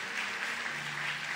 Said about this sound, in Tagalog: Sige po, malakas na palakpak para kay Jesus.